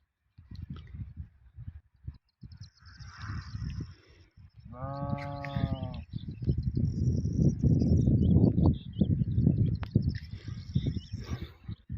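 A single bleat from a lamb or sheep on a Turkish hillside, one clear harmonic call midway, heard close amid rustling, footsteps and outdoor noise.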